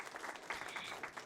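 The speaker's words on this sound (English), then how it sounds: "Please join me in a round of applause and a virtual hug for these phenomenal leaders." Brief burst of applause from a small group at a virtual awards event and annual meeting, faint and thin, scattered claps for a few moments.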